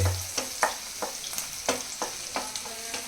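Egg keema curry being stirred in a pan, with a steady run of spoon scrapes and soft taps against the metal over a low sizzle, about eight strokes in an even rhythm, close by and with no talking.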